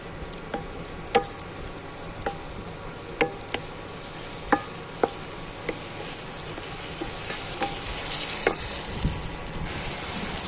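Spoon stirring turmeric, garam masala, cumin and Kashmiri chili powder frying in a pan, with a low steady sizzle and scattered sharp scrapes and taps against the pan, no talking.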